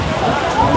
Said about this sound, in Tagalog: Tignan nyo, lakas ng ulan.